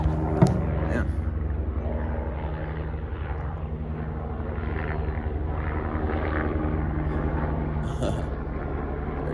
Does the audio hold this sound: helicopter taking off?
yes